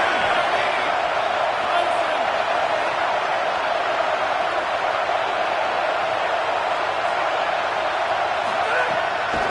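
Home crowd in a football video game making a steady, dense roar that holds at a constant level throughout like continuous cheering in a stadium, with no clear peaks or individual shouts.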